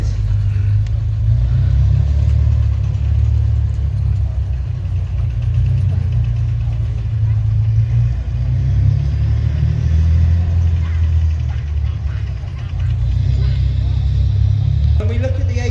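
Armoured fighting vehicle engines rumble at the Tankfest display, a loud, steady low drone that holds without pause for the whole stretch.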